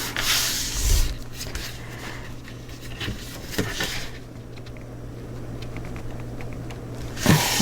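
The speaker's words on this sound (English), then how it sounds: "Burnish on this side." Paper on a mini album cover is burnished by hand, a soft continuous rubbing and sanding sound with a few louder scuffs near the start and end, close and moderately quiet with no talking.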